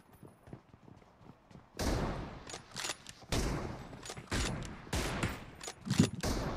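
Bursts of automatic gunfire sound in a BGMI battle-royale match: loud, rapid strings of shots that start abruptly after a quiet stretch and repeat several times.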